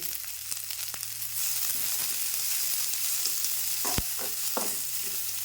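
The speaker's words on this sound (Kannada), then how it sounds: "ಈ ಉಳ್ಳಾಗಡ್ಡಿ ಒಂದು ಸ್ವಲ್ಪ ಫ್ರೈ ಮಾಡ್ಕೊಳ್ಳೋಣ" Lengthwise-sliced onion fries in a little oil, a close, steady crackling sizzle that swells after a moment, broken by stirring scrapes and one sharp knock of a utensil.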